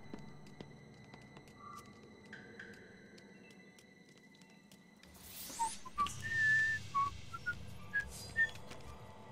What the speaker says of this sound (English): Whistle. I have a whistle.